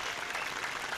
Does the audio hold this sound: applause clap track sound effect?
yes